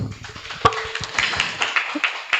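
Sparse, scattered clapping for Maskopis at a dakwah-preneur workshop, a handful of separate hand claps at uneven intervals, one louder snap early on and the rest fading off, quiet and with no talking.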